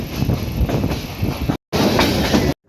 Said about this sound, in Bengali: আমাদের ট্রেনটি বর্তমানে লাউয়াছড়া পাহাড় অতিক্রম করছে।